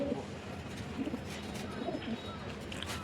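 Pigeons coo softly as they come to drink water, a few faint, short coos spread across a low, steady background.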